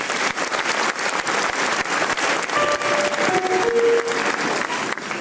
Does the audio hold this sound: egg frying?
no